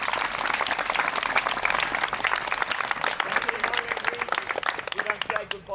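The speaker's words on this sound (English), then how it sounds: "Great, give them a clap." An audience claps in dense, continuous applause at an outdoor centenary celebration, loud and close for several seconds before tapering off at the end.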